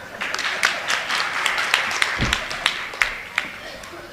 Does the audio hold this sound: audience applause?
yes